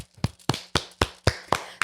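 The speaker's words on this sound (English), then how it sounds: "I want all of us to do a round of applause" A small group on a podcast set gives a round of applause, about seven sharp, evenly spaced claps close by, nearly in unison and alone, with no talk over them.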